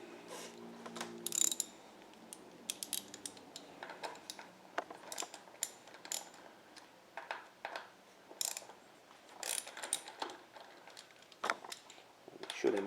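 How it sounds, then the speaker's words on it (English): Ratcheting clicks from loosening the front wheel pinch bolts on a Buell XB motorcycle, coming in short bursts of tool clatter with brief pauses between them. "you're going to want to loosen these 2 pinch bolts right here"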